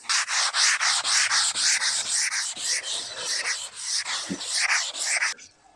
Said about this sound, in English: Sanding sponge for the curves.